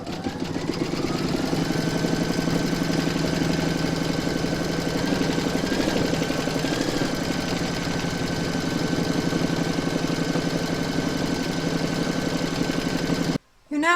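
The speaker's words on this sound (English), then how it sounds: "You're now going to pop that into your machine and stitch round number 3" An embroidery machine stitching fabric onto a Dress Up Tony doll, a steady dense rapid whir and needle chatter running for most of the stretch before cutting off briefly near the end.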